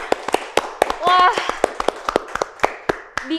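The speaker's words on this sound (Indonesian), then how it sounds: "Ya, tepuk tangan dulu dong teman-teman." A small group claps in sharp, scattered hand claps at a fairly even pace, close and distinct rather than a dense roar. A voice speaks briefly partway through.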